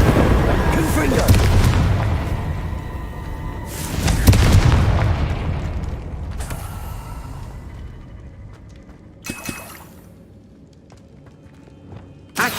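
Booming blasts from the Confringo fire spell in the Hogwarts Legacy video game, two heavy explosions early on, followed by fainter rumbling bursts and a few sharp hits near the end.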